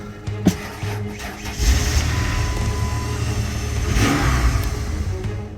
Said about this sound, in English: Let's get the car started.